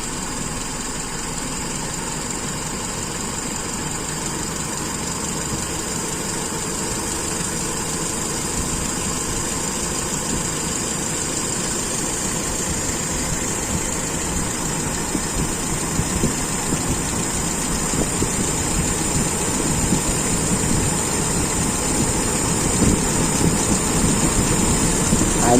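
A motorcycle engine with a standard carburetor runs steadily at idle, then is revved a little higher while its RPM is adjusted, a close continuous hum that grows slightly rougher and louder toward the end.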